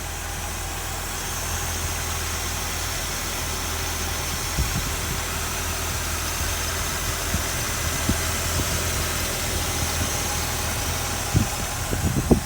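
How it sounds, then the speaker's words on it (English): A 1969 Chevrolet Corvette convertible engine idling steadily and close, a constant low rumble with occasional small mechanical ticks and knocks, no voices over it. "I'm gonna go ahead and get the engine started for you"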